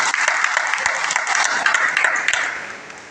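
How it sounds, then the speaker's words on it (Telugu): A seated audience at a business talk bursts into a big round of applause for two honoured guests, dense and continuous clapping that fills the room before easing off toward the end. "మీ బిగ్ క్లాప్స్ తెలియజేస్తే కోరుతున్నాను."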